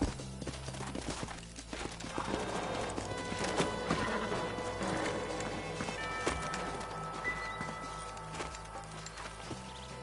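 Horses in the Red Dead Redemption video game, hooves clip-clopping with a whinnying neigh, over a busy game soundtrack with shifting background effects.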